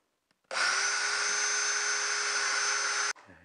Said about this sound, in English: we'll go ahead and drill the first hole